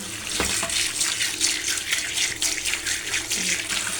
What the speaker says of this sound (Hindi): ये देखिए मैं ये सब्ज़ी धोने लगी।